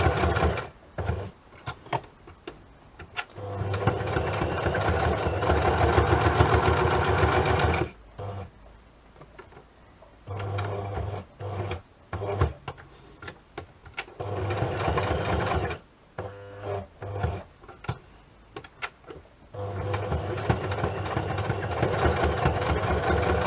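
A sewing machine stitches a fabric tag in several bursts of steady mechanical whirring, each run lasting a few seconds and separated by short pauses, close and fairly loud with no talking.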